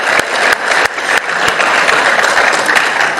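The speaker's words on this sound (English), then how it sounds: "round of applause to KCB Leadership Center." An audience applauds at the closing session of the 18th Africa Scout Conference 2022: loud, dense, continuous clapping fills the whole stretch, with no voices over it.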